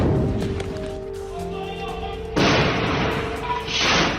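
Heavy bombardment around Nasser Medical hospital in Khan Younis: two loud, broad booming blasts, the second following about a second and a half after the first, over a tonal background.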